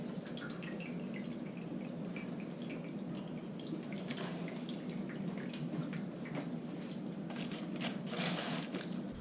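Water drips and trickles steadily as a cheesecake pan wrapped in aluminum foil is lifted from a water bath, a soft continuous wet patter with scattered brighter drops throughout.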